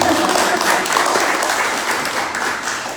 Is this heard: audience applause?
yes